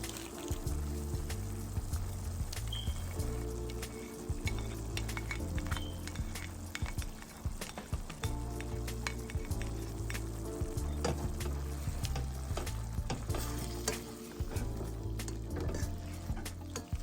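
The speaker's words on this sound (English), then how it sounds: "as we have the ground beef browning here" Ground beef browning in a soup pot makes a faint, continuous sizzle under steady background music, with scattered soft clicks and scrapes.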